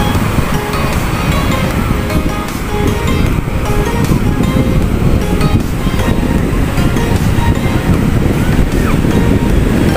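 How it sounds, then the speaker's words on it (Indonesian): Ocean surf rolls onto Teleng Ria beach in Pacitan, East Java, a loud, continuous roar and wash, heard close with wind buffeting the microphone. "Ombaknya sangat bersahabat ini"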